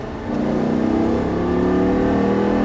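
A Lamborghini Gallardo's loud engine rises in pitch as it accelerates hard, the growl building steadily and close by with no voices.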